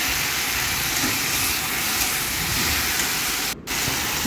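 Taro flowers fry in oil over a low gas flame, giving a steady, even sizzling hiss that stays loud and continuous with one brief dropout.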